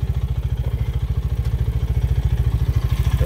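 A Polaris Sportsman 570 ATV engine holds high revs against the rev limiter, cutting in and out in a fast, steady stutter that stays close and loud.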